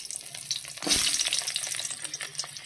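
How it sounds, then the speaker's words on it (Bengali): Potatoes crackle and sizzle in hot oil already used for frying fish, with a sharp burst of frying as they drop in, then a steady, quieter spitting sizzle. "এবার আমি এই মাছ ভাজা তেলে আলুগুলো প্রথমে ছেড়ে দেব"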